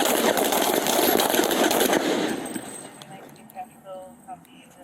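Police officers open fire in a dense, rapid burst of overlapping gunshots, loud and close, lasting about two seconds before fading into scattered sounds and voices.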